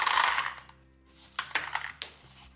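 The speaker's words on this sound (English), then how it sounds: "Let's add some ice into the glass." Ice cubes drop into a cocktail glass for an Aperol margarita, a loud clatter at first, then a pause and a few separate sharp clinks as more cubes land, with no talk.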